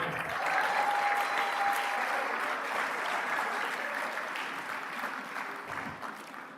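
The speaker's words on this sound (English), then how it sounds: "Keep clapping, please clap for them." Sustained applause from a large audience at a business school graduation ceremony, steady and loud throughout, fading slightly toward the end.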